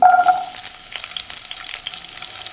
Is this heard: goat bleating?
no